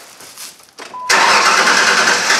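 A 1998 Ford Ranger 3.0L V6 cranks briefly and catches, settling into a loud, steady close idle after a short starter whine, with no talk over it.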